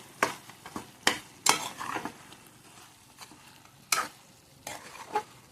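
Mutton with turmeric stirred in a frying pan: irregular scraping strokes and clinks of a spoon against the pan over a low, continuous sizzle.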